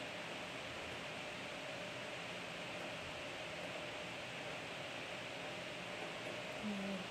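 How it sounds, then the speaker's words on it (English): An air conditioning unit runs on a hot day, giving a constant, even hiss and hum that stays at the same level from start to finish, with nothing else over it. "I'm sorry if you can hear the air conditioning unit that's on"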